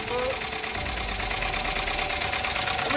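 A Hemi engine with a ticking, knocking fault runs steadily up close, a dense mechanical clatter with fast repetitive ticking throughout.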